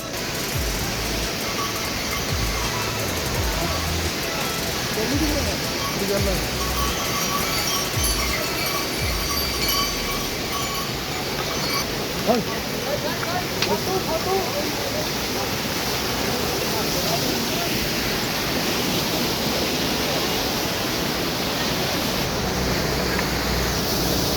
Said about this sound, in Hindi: सामने जो आप झरना देख रहे हैं जो काफ़ी ऊंचाई से गिर रहा है